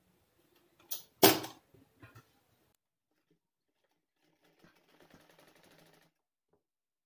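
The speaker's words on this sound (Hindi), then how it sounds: "इसके ऊपर सिलाई लगा देते हैं हम।" Sewing machine stitching a seam on a child's umbrella top, a loud rapid burst of stitching followed by a couple of brief clicks, then faint rustling of fabric.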